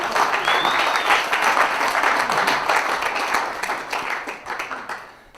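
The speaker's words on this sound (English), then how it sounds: "So start clapping so I can..." An audience claps steadily at a celebration event, a dense and even patter of hands that gradually tapers off near the end, with a brief whistle early on.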